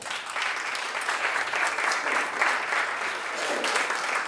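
An audience in Uganda claps warmly for an introduced guest, continuous dense applause from a nearby crowd for a few seconds.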